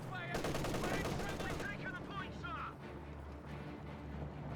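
Machine gun fire in the strategy game Company of Heroes 2, a rapid burst of gunshots in the opening seconds that fades into softer battle noise, with a commentator talking over it.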